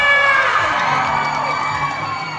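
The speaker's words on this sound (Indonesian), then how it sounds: "Ya, tepuk tangan yang meriah" An audience at a student and lecturer solidarity event cheers and whoops over background music, a loud, continuous crowd roar with shouted voices.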